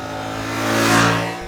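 A 2025 Suzuki GSX-8TT motorcycle engine accelerates in a steady, rising drone that swells louder toward the end, then eases off slightly, with no talking.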